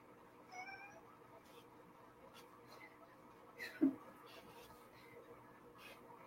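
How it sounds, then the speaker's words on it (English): Two pet cats meowing indoors, faint and close, a few short high mews scattered over several seconds with quiet talk around them. "number 2 is O'Malley and Sophie, our cats"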